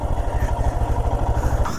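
A motorcycle engine idles close by in a mango orchard, a loud, steady low throb with an even rapid pulse and no voices.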